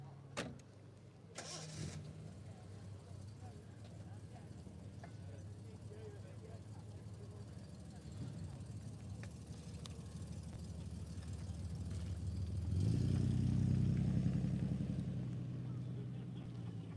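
Classic car at an outdoor car show idles as a steady low rumble, then the engine revs up loudly for a few seconds near the end before settling back; crowd chatter and voices run underneath throughout.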